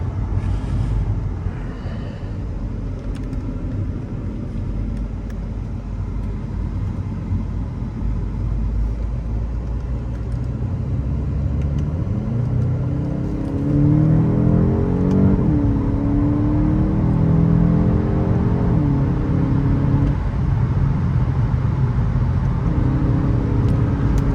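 A Volkswagen Golf 8 GTE accelerates out of a corner, heard from inside the car: a steady rumbling drive with rising whirring engine tone building through the second half, no talking.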